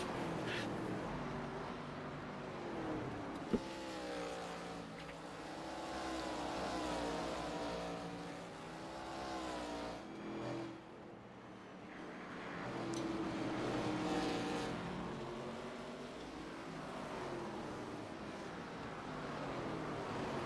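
Race cars in a sim racing ARCA event lap a speedway, their engines droning and rising in pitch as they pass, a continuous layered roar of several cars that swells and fades over the lap.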